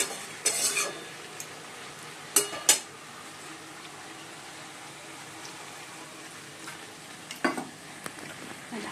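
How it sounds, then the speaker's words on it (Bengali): Cabbage being stirred with spices in a pan on a gas stove, a few sharp scrapes and clinks of the spoon against the pan over a soft, steady sizzle. "বাঁধাকপিগুলো দিয়ে দিয়েছি এবার ভালো করে মিশিয়ে মশলার সঙ্গে ভালো করে মিশিয়ে"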